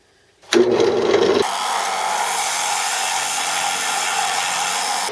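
A drill press bores into wood with a Fastener bit on a simple drill press table, a short louder bite at the start and then a steady, close, continuous whirring grind with no voices.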